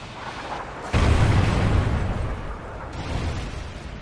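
A Trinity rocket strike explodes in the video game Ghost, a sudden loud deep boom followed by a long rumbling roar that slowly fades.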